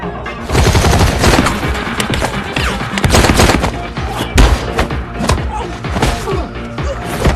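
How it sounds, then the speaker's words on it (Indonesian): Gunfire erupts in a film shootout at a club, a dense, loud barrage of overlapping shots and heavy thuds layered over action music, with sharp impacts recurring throughout and no clear speech. "Dari sini terjadi baku tembak dan pertarungan jarak dekat"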